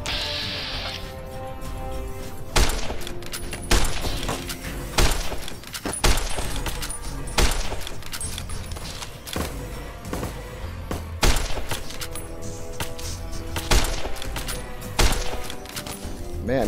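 Enemy gunfire in Fallout New Vegas, repeated sharp shots and thuds at irregular intervals over a busy game background, with occasional talk.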